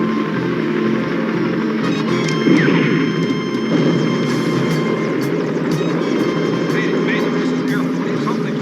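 Helicopter flying as a radio drama sound effect, a steady dense rotor and engine roar held at constant loudness throughout, with voices heard over it.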